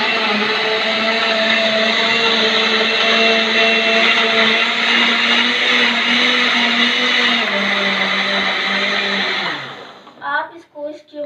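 A kitchen blender whirs loudly and steadily while blending milk and chikoo fruit into a shake, a strong harmonic motor drone that holds for about nine seconds before winding down and cutting off, with a voice heard briefly afterward.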